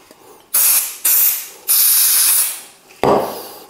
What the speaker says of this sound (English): So I've got some brake cleaner here,